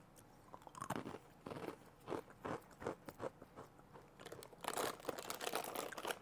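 Crunchy small-onion murukku, a spicy Tamil Nadu snack, being bitten and chewed up close, with repeated crisp crunches in an irregular rhythm and some crinkling of a foil packet; nobody speaks.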